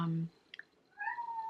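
A house cat meows in a brief, fairly quiet call rising out of a speaking voice indoors, followed by a longer drawn-out tone.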